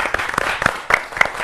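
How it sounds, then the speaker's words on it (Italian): A few people watching the Bologna-Napoli match give goalkeeper Skorupski a short burst of applause, about five distinct, close claps in quick succession with a voice briefly mixed in. "Signori, applausi a Skorupski."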